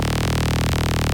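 A synth bass layer played dry, with no effects on it: a steady, buzzy, harmonic-rich tone that is held loud and close throughout, with brief retriggers of the notes in a repeating pattern.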